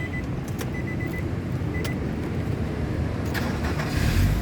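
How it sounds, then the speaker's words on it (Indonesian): A 2005 Nissan X-Trail T30 2.5 automatic cranking over, a steady close engine rumble filling the whole clip with a few brief clicks on top and a rise in level at the end; no talk. "Sekarang kita coba nyalakan mobil ya."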